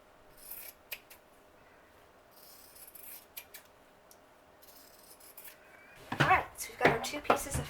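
Scissors snipping through fabric rectangles for a homemade face mask, quiet scattered cuts at first, then a louder run of close crunchy snips near the end, with light rubbing between.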